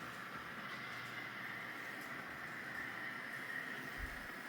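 An N scale model train runs along its track on a layout, giving a steady, faint rolling hum with light clicking from the rails and no voices over it.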